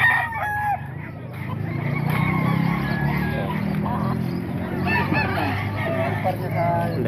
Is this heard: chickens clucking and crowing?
yes